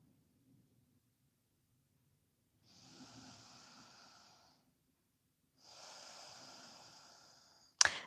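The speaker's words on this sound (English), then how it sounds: "Breathing through your nose." Slow nasal breathing during a relaxed yoga twist, two long soft breaths of several seconds each separated by quiet pauses, close and faint, followed by a brief sharp sniff at the end.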